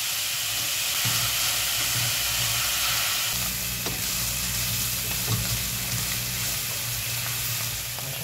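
Onion and garlic frying in a pan make a loud, dense sizzle and hiss throughout, with occasional stirring clicks and a low hum underneath, and no voices.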